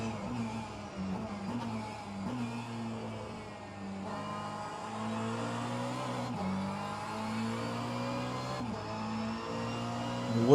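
A Ferrari GT3 race car in a sim racing game at Circuit Zandvoort drones steadily from the cockpit, pitch climbing through the gears with brief drops at each upshift, loud and continuous.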